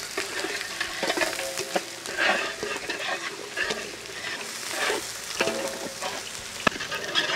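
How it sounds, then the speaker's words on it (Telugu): Thinly sliced onions frying in hot oil in a pan for Andhra-style gongura mutton curry, a loud close sizzle with scattered crackles and stirring scrapes, continuous throughout without voices. "ఉల్లిపాయ ముక్కలు మనం దీంట్లో ఆయిల్లో వేయించుతున్నామో"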